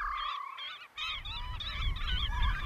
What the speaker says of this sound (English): It's just a constant cacophony from the birds, just moving around, squawking at each other.